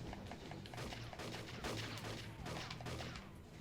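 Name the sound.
gunfire in a video game, Super 64 332-in-1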